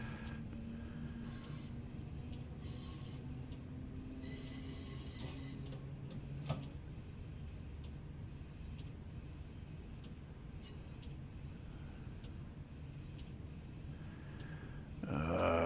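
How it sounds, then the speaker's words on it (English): A twelve-car Class 411 4-CEP electric multiple unit slowly accelerating in Train Simulator Classic, with a low steady motor hum and faint rhythmic clicking running throughout, quiet and even, and a brief louder burst at the very end. "So the acceleration is quite a bit slower than I'm used to because, yeah, this is a 12-car train which I don't often drive"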